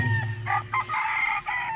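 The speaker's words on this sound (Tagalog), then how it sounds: "marinig yung mga manok nila dito na tumitilao" A rooster crows nearby, loud and drawn out, with a few clucking fowl around it in the barnyard.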